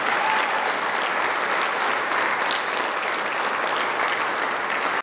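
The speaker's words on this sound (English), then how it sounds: "let's give everybody a round of applause" Dense, steady applause from a large audience at a DePauw Athletics Hall of Fame induction ceremony, filling the hall evenly for about five seconds before cutting off abruptly.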